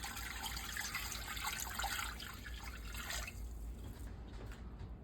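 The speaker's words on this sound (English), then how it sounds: "To a large stock pot, you need 3 cups of white vinegar." White vinegar poured into a large stock pot, a steady close trickling and splashing of liquid for about three seconds before tapering to faint drips, with no talk.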